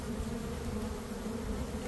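A dense, steady swarm of bees buzzes loudly and continuously during a rescue of a colony with collapsed comb.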